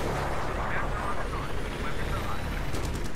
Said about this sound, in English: I'm in a fucking helicopter!